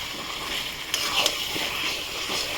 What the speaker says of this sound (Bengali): আমার ম্যারিনেশন করা মাটনটা দিয়ে দেবো। দিয়ে এটাকে ভালোভাবে কষবো,